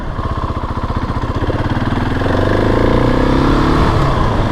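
A 2020 Husqvarna 701 SM motorcycle is ridden in a tame mode, its single-cylinder engine thumping loud and steady up close, then rising into a smoother, higher drone as it pulls away.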